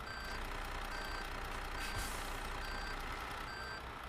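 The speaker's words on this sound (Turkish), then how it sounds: "Otobüsün sesi falan efektler gerçekten muhteşem." Bus reversing beeps from a MAN Lion's Coach in Euro Truck Simulator 2, a steady run of evenly spaced high beeps over a constant low engine hum and cabin noise.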